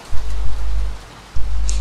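Rain in the video game Little Nightmares 2 falls as a steady patter, with a few heavier low thumps rising and fading beneath it and no talking.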